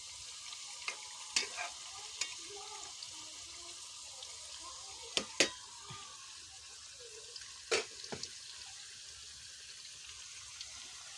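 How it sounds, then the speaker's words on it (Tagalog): Sweet potato slices frying in hot oil in a pan, a steady soft sizzle throughout, broken by a few sharp clinks and scrapes as the pieces are stirred and turned over, close by with no talking. "Baliktarin natin para lutong-luto talaga siya guys."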